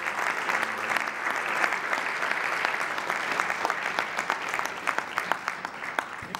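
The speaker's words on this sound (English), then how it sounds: "Let's give them a round of applause to bring them on up." An audience at a policy conference lunch applauds, a dense, steady patter of many hands clapping that continues throughout and thins slightly with a few sharper claps near the end.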